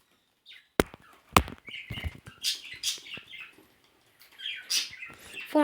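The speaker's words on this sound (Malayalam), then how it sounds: "അവിടെ കിളികൾ കിടന്ന് കരയുന്നു." Birds call and chirp outdoors in short scattered bursts, with sharp clicks and taps mixed in, fairly close and moderately loud between brief pauses.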